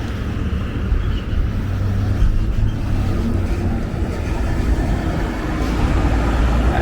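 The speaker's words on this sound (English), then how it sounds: "Cropsey Avenue is a major truck route. A lot of trucks come through this way." Busy traffic on Cropsey Avenue, a major truck route in Brooklyn, with a steady loud low rumble of passing vehicles and heavy engines filling the whole stretch, nearby and without any talking.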